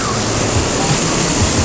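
Loud ocean surf and churning whitewater roar around a 10'6" COOLCAA Explorer inflatable paddle board, a dense continuous wash with wind buffeting close to the microphone.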